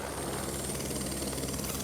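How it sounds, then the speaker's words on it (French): A helicopter drones steadily overhead near Blatten, Switzerland, after a glacier collapse, its rotor giving a dense, pulsing whir at constant loudness with no voices. "nous devons prendre un hélicoptère."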